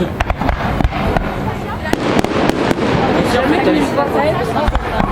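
Fireworks at the Walygator amusement park go off in a rapid series of sharp bangs and crackles, loud and fairly close, and fade into a fizzing sparkle while a crowd chatters and people talk nearby.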